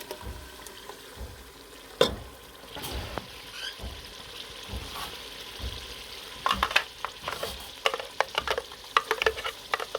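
Lahori chana in a creamy mixture gets stirred in a pan, with low sizzling, irregular spoon scrapes and knocks, growing busier and louder toward the end, heard up close.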